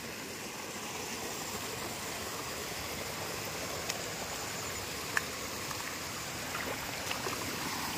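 Water pours down into a full public village well as a steady, even rush that stays close and unbroken, with a few faint clicks over the flow and no voices.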